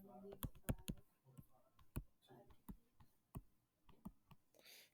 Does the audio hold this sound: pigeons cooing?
no